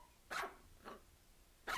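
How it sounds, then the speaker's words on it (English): A pack of puppies yaps in three short, sharp barks spaced across a quiet room, faint and slightly distant. "a pack of barking puppies jumped in my legs"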